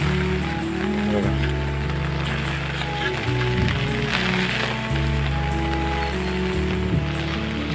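Heavy monsoon rain pours down in rural Konkan over flooded fields, a dense steady hiss of rain on surfaces, with a low constant hum running underneath and no voices.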